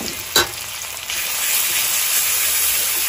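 Ginger-garlic paste hits hot oil with browned onions for a pork curry, giving a loud, steady sizzle with a brief stirring scrape near the start, close and alone.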